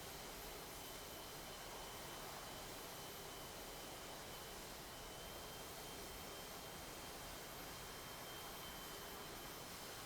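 A JAS 39C jet engine whines with a steady, continuous roar as the fighter taxis onto the runway in a flight simulator game, with no voices heard.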